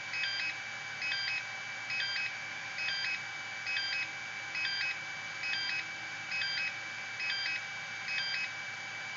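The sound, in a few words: lipo charger beeping when charging is done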